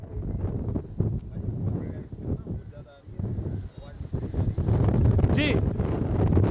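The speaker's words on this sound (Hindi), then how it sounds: "इतनी तेज हवा और आंधी है" Strong stormy wind buffets the microphone in heavy, rumbling gusts that build toward the end, with a reporter's voice partly audible beneath the roar.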